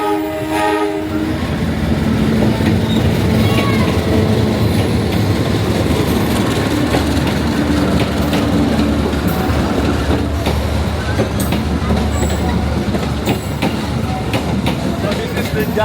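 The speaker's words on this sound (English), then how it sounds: "So this is the Java train." A passenger train on Java rolls past close by, its loud, steady rumble and rhythmic wheel clatter on the rails filling the whole stretch, with a horn-like tone near the start.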